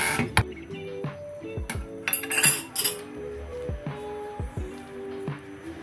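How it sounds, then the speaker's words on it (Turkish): Ceramic plate set down on stuffed vine leaves in a cooking pot, giving sharp clinks and clatters of crockery and metal, a few close knocks spread over several seconds with no talk. "Pişerken sarmaların dağılmaması için üzerine ağırlık yapması amacıyla tabak koyalım."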